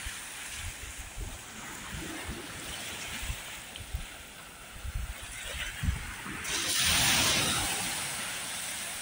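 Ocean waves wash onto a beach with a steady broadband hiss, and a fuller surge swells near the end; soft scattered thumps and movement sit underneath.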